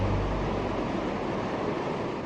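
Foaming Reka river rushing through the narrow Kačna cave passage, a loud, steady broadband roar of churning water that fills the space without pause, with no voices.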